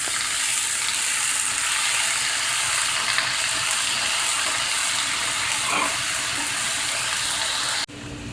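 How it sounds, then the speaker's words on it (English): Callaloo with onions, scallions and garlic sautéing in a hot pan, a steady loud sizzle with faint stirring, ending abruptly. "We're doing the onions and the scallions or green onions right now, and before the garlic burns, we're just gonna quickly saute"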